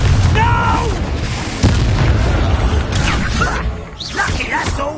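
Confringo fire spell explosions from a wizard duel in Hogwarts Legacy, heavy booming blasts rolling over dense game combat noise, with shouted voices among the loud, continuous chaos.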